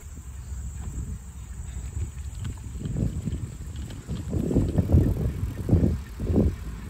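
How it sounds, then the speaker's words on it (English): A bicycle is ridden outdoors through Valley Forge park in winter, with low rolling and rattling noise and wind rumble growing louder in bursts toward the end, no talking. "I'm not good at riding a bike"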